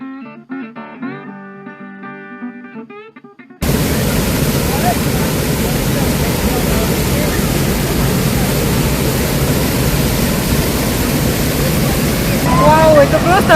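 A powerful waterfall, Tahquamenon Falls in Michigan, roars steadily and loudly, a dense continuous rush of water that starts abruptly after a few seconds of music.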